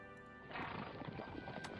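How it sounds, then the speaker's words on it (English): Horses in the World War II strategy game Strategic Command WWII give a loud, close whinny with clip-clopping hooves, kicking in after a brief quieter lead-in and running to the end. "I want to bring the horses in."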